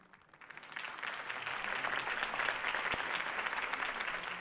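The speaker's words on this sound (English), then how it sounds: "could have heard that applause" Crowd applause from a political rally for Harvey Dent in the video game Batman: The Telltale Series, a dense, steady wash of clapping that swells quickly and holds throughout, with no talk.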